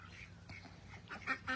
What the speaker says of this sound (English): Yeah, I love the ducks too.